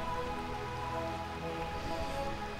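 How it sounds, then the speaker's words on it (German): Steady rain patters and hisses throughout the city of Burmecia in Final Fantasy IX, a continuous downpour that sits under faint tonal game music with no talking. "Stadt des ewigen Regens."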